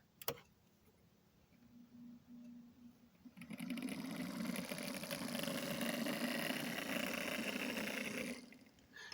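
A small model locomotive motor whirs steadily in reverse at 20% throttle, a faint, even hum that starts after a sharp click and runs for several seconds close by before stopping.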